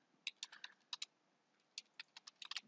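Quick bursts of keystrokes on a computer keyboard, close and fairly quiet, in two clusters separated by a short pause, with no talking.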